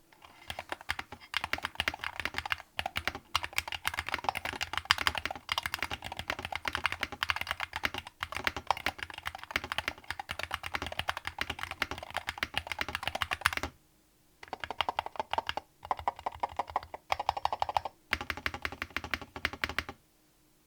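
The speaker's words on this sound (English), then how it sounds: "So here's a quick sound test for you." Rapid typing on a Monsgeek FUN60 Ultra HE mechanical keyboard with magnetic switches, steady clacking keystrokes close up, with a brief pause and then more bursts of quicker taps.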